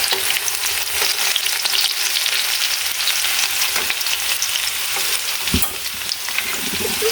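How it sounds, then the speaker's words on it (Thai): Garlic sizzles steadily in hot oil after fish has been fried in it, a dense, even crackle that holds close and loud throughout, with one brief clink near the end. "ทีนี้ก็เอากระเทียมลงนะ กระเทียมสักลงแป๊บนึง"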